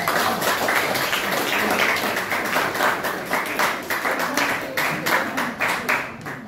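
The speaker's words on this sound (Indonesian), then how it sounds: "tepuk tangan untuk kelompok Aisyah" A classroom group in a teachers' training session in Denpasar gives a round of applause for a discussion group: many hands clap close by at first, then the clapping thins into rhythmic claps that fade.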